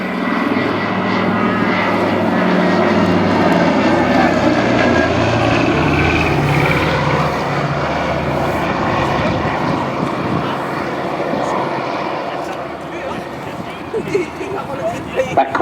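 A PBY-5A Catalina flying boat at an airshow drones steadily with the low throb of its piston propeller engines, loud and sustained as it passes, while a voice talks over it.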